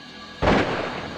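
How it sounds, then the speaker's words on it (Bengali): A single loud gunshot in a film bursts suddenly after a quiet moment, then its reverberant tail decays over most of a second, with no talking. "গুলির শব্দ।"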